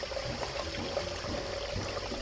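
Spring water flows steadily in a small stream near a country house, giving a continuous close rushing and trickling wash with no pauses and no voices.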